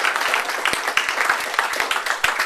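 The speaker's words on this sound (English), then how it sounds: "let's give these 2 fine legislators a round of applause and appreciation" A small audience at a public library in Boone, Iowa claps for two legislators. The applause is short and fairly sparse, with distinct individual claps over a couple of seconds.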